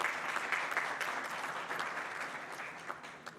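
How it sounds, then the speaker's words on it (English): Applause from a symposium audience on AI, education and the learning sciences, a steady indoor clapping that fills the room for a few seconds and fades slightly toward the end, with no talk over it. "I just want to give one more big round of applause for all of our speakers"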